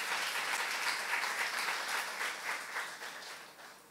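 Church congregation clapping together during a youth service sermon, a steady, dense wash of applause that holds moderately loud and then gradually tapers off.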